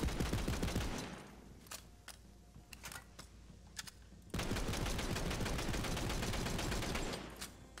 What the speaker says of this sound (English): Oh my god, it's a Jacobs gun.